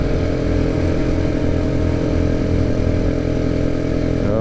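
A KTM 690 single-cylinder motorcycle engine drones steadily while riding along Schnebly Hill, a loud, continuous close-up buzz with wind, no breaks or revving changes.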